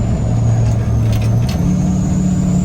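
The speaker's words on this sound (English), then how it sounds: "You guys know you love that Ryan's Diesel Service turbo whistle." A diesel Kodiak 4wd truck carrying a camper rolls along at about 30 mph with its turbo brake engaged. A steady, loud engine drone holds throughout, and a faint turbo whistle rides above it.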